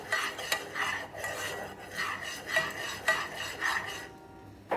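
A steel spoon scrapes and stirs creamy flour batter in a pan in a home kitchen, making steady rhythmic scraping strokes about every half second; no talking.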